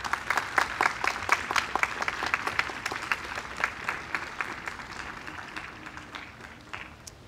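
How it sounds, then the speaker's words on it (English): Steady applause from a graduation ceremony audience for the class of 2022, dense clapping running throughout at a constant, moderately loud level without speech. "let's give them all a big round of applause"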